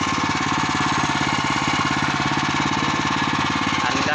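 A kuliglig hand tractor engine runs loudly and close by, a steady rapid chugging pulse with no pauses and no voices.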